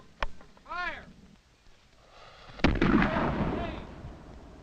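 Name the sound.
historical cannon firing solid shot, Fort Stanwix siege reenactment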